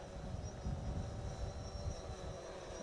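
A quadcopter drone flying forward and turning during beginner training exercises gives off a steady, faint whirring propeller hum that holds without pause throughout, with no voices over it.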